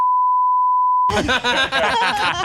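A steady censor bleep tone holds for about a second on its own in a podcast, then cuts off and normal conversational speech follows.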